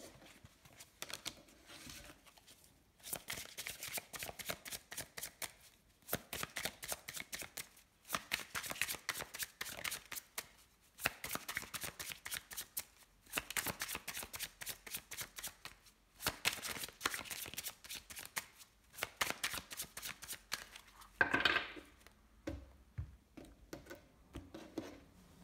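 Tarot cards being shuffled close by in repeated quick riffling bursts separated by short pauses, quiet and alone.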